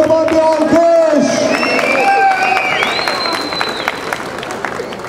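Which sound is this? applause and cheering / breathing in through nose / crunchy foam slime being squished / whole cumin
applause and cheering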